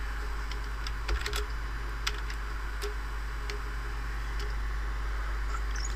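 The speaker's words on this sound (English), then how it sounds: "I'll type in the following commands" Keys tapped on a computer keyboard while entering commands on a Windows XP PC, sparse irregular clicks with a few quick bursts over a steady low hum, close and fairly quiet, no voices.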